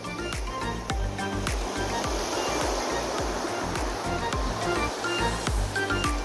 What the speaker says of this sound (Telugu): ఈ సెలయేరు యొక్క గలగల ఎంత చక్కగా ఉందో అద్భుతంగా